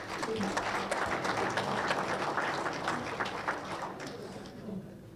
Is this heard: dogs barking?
no